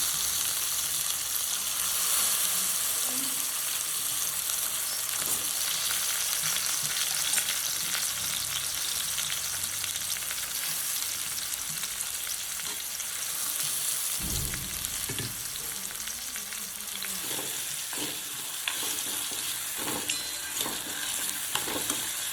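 Potatoes sauté in a pan with a constant close sizzle, while a spatula stirs and scrapes at intervals.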